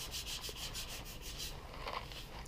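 Steady hand sanding of a motorcycle gas tank with 400 grit sandpaper, a continuous close scratchy rubbing with rhythmic back-and-forth strokes, alone without talk.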